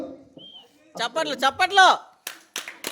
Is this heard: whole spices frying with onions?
no